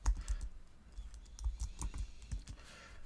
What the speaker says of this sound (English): by typing Python